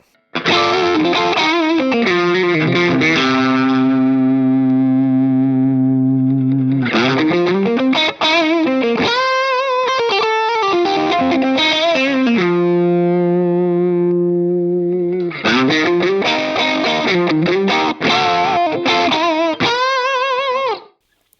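Electric guitar through a modeled overdrive on split-coil mode, sustained bent notes and busy riffs with a gritty, zingy edge, loud and continuous with no talking.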